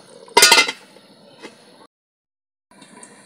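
A lid settles onto a pot of cooking gule fish with one bright metallic clink, followed by a faint tap and near silence.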